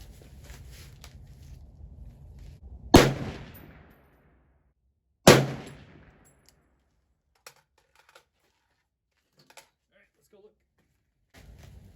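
Two loud, sharp rifle shots from a SIG 716i at the range, a few seconds apart, each with a short decaying echo, followed by quiet handling clicks and a person speaking.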